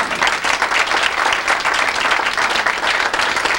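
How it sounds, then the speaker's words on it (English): Steady, close applause from an audience at a 1995 hall of fame induction ceremony in Willingboro, dense clapping without pause for a few seconds. "I'd like to have a nice round of applause for Dr. Bass for his work"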